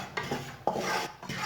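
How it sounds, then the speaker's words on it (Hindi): A spoon scraping and stirring flour as it roasts dry in a pan for coconut barfi, giving a steady close rasping and rubbing with a few sharper scrapes against the metal. "ऐसे ही इसे भूनना है चम्मच चलाते हुए।"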